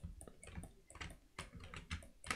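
Computer keyboard keys tapped during Blender 3D modeling, a quick irregular run of soft, close clicks with no talking.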